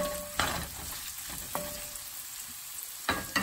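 Small onions sautéing for a Kerala shrimp roast give a soft steady sizzle, broken by a few sharp clacks of a spoon stirring the pan, with no talking.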